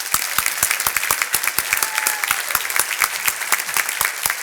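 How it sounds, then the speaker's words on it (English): A modest breakfast-event audience claps for a speaker, individual hand claps distinct and rhythmic, moderately close with a slight room echo, no talking over it. "give a nice round of applause to"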